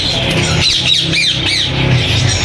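Ringneck parrots at a Bahawalpur bird market, loud harsh squawks repeating in quick bursts, close and dense over constant market noise.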